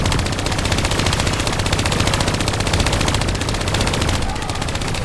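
Rapid, sustained turret machine gun fire in Call of Duty: Black Ops 3, a loud, dense, unbroken stream of shots throughout.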